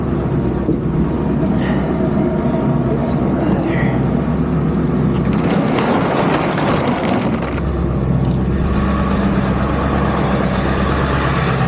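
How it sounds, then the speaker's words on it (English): A truck engine idles while warming up, giving a steady, close low rumble that continues unbroken throughout. "Let my truck warm up too."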